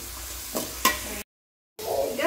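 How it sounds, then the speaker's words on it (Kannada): Vegetables sizzling and frying in a pan for fried rice while being stirred, with steady crackle and a couple of scraping stirs, briefly cut to silence before the sizzle resumes. "ವೆಜಿಟೇಬಲ್ಸ್ ಎಲ್ಲ ಒಂದು ಸ್ವಲ್ಪ ಕಲರ್ ಚೇಂಜ್ ಆಗೋವರೆಗೂ ಸ್ವಲ್ಪ ಫ್ರೈ ಮಾಡಿ"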